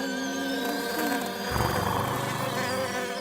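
Housefly buzzing in a Garfield Show cartoon, a continuous close whining drone that swells and shifts in pitch as it moves, heard alone.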